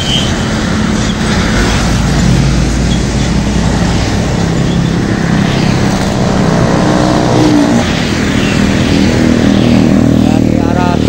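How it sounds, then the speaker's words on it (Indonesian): A Mitsubishi 6x2 dump truck labours up an uphill road, its loud diesel engine droning close by and continuous, with the rumble rising and shifting as it passes. "Dari arah selatan melintas dump truck Mitsubishi 6x2."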